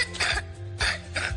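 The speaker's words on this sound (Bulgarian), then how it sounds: "Суха кашлица." Dry coughing from a cough syrup advert: three sharp, harsh bursts in quick succession, close and clear, each with a raspy throat edge.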